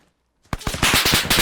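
A big gun firing in the video game Arma 3: after a brief quiet moment, a loud, rapid burst of heavy automatic shots rattles on steadily and close.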